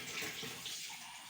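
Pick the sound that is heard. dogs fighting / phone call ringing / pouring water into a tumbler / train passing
pouring water into a tumbler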